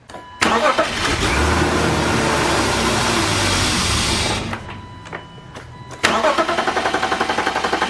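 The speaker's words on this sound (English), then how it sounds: "it'll run for a second while it has pressure in the fuel system, and then as soon as the pressure pretty much dies out, the engine will just shut off" A BMW E36 engine starts and runs roughly for a few seconds on residual fuel pressure, then dies from fuel starvation; near and loud, followed by a quieter stretch and then renewed rhythmic cranking.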